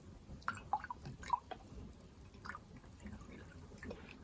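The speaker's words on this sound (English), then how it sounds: "let's add a bit of water," Water poured into a large earthenware onggi jar of homebrewed makgeolli, Korean rice wine, comes through as a few close drips and splashes in the first second and a half, then softer trickling.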